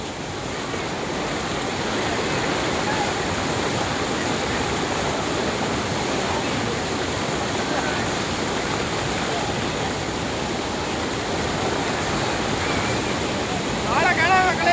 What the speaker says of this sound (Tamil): பாரு மக்களே, தண்ணி தள்ளிட்டு இருக்கு